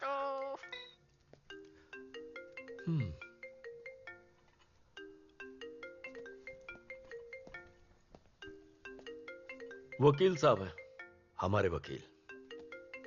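A phone ringtone plays a repeating melodic pattern of bright tones through most of the passage, with short breaks between phrases, as someone speaks over it and a few louder voiced bursts break in near the end.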